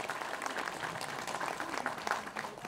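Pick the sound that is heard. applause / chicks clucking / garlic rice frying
applause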